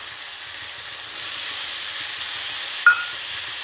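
Chopped tomatoes sizzle and fry in a pan for dal palak, a soft continuous hiss with a single brief scrape or clink of stirring near the end.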